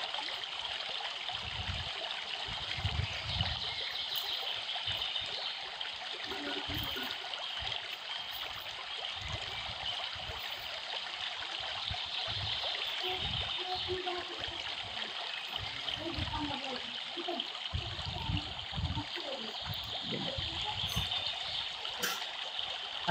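Water swishes and trickles continuously as river sand and aqua soil are rinsed for an aquarium setup, a close, steady wash with soft gurgles and splashes.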